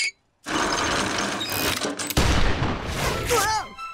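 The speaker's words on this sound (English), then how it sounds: "Is that a machine gun?" Rapid machine gun fire in a classic Peter Pan cartoon, a loud dense rattling burst that runs for several seconds after a brief silence, ending with whistling, swooping sound effects.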